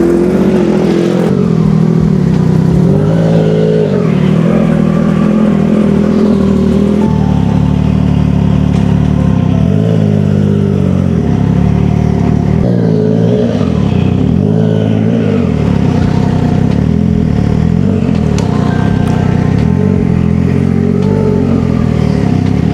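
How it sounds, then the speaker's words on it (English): A Triumph Trident 660 motorcycle ridden and braked hard to bed in new brake pads, its engine loud and close throughout, rising and falling in repeated revs and slowdowns with no talk. "you want to ride your bike and then move slowly, but then you brake hard so that the new pads bed into the rotors"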